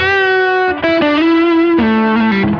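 An electric guitar plays sustained, effects-processed notes through a Line 6 Helix with a subtle delay, a faint echo trailing behind, moving through a short melodic phrase.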